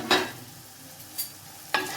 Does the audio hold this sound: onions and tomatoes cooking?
yes